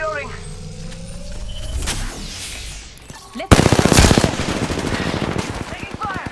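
Automatic gunfire in Apex Legends: after quieter game ambience and a few isolated shots, a loud rapid burst of fire breaks out and keeps rattling to the end, close and dominant, with a voice briefly in the mix.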